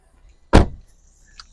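Rear seatback of a 2024 Infiniti Q50 Luxe AWD sedan folding down in a 60-40 split, landing with a single loud, close thump that trails off quickly, followed by a faint click about a second later.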